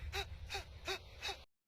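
A man, Miles Dyson in a Terminator 2 film scene, breathes hard in four quick, evenly spaced gasping breaths over a low hum, ending abruptly in silence.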